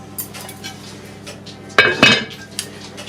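A lid goes onto a chicken casserole dish, giving two quick, close clinks of crockery in a row, with faint kitchen sounds around them.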